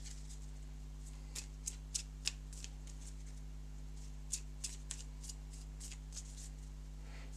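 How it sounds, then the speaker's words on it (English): A deck of game cards for a foraging-themed tabletop game being shuffled, heard as two faint bursts of quick riffling snaps over a steady low hum, with no talking. "You always want to give it a shuffle before you start."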